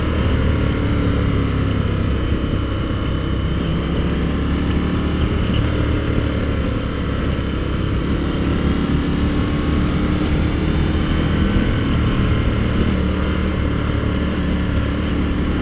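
A 2019 Indian FTR 1200 motorcycle pulls away in second gear through a residential street, its engine drone steady and close, continuous wind and road noise layered over the low rumble with no breaks.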